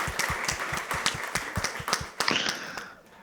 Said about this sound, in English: Huge applause to you.